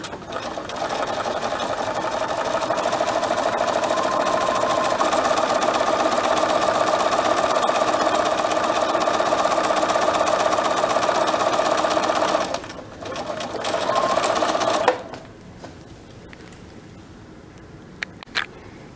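A sewing machine runs a 2.5 stitch in a steady, continuous mechanical whir lasting about twelve seconds, close and fairly loud, then stops briefly, runs again for a moment and goes quiet.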